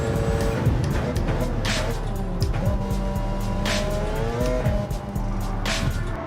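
Hypercars racing in Gran Turismo 7, a steady close engine drone with shifting whines and brief tire squeals running throughout, loud and continuous.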